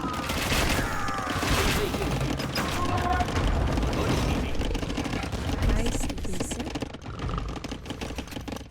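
Dense, continuous battle gunfire crackles around bombard cannons in the Age of Empires video game, with rapid overlapping shots and clatter sustained at steady loudness throughout.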